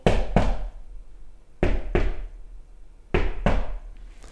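Paired knocks on a hard surface mimic a heartbeat, with three close-miked double thumps at an even, slow pace and quiet gaps between them.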